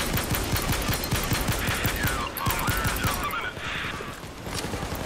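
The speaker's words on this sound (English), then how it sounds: "Oh yeah, it does have a gun turret." Rapid automatic gunfire from a gun turret in the video game Payday 2, a dense loud burst of shots with mechanical clatter that thins out toward the end.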